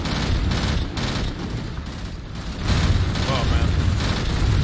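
Heavy gunfire and cannon blasts from an Angels Fall First battle, a dense, continuous rumble of shots that swells louder partway through, with a brief voice speaking over it.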